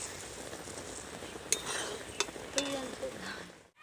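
Thickened milk for payesh bubbling in a pot, a low steady simmer broken by a few sharp clinks and scrapes of a spoon against the pot, ending abruptly in near silence.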